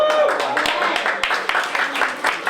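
An audience claps at a poetry night in a room, dense steady applause running throughout while a voice talks over it.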